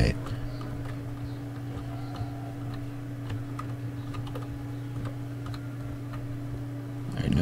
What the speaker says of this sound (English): I need a new keyboard. Listen to this